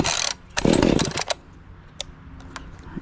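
A gas chainsaw is pull-started, catching after a brief rasp, then revving loudly near the listener for a moment before dropping to a fainter idle with occasional short blips.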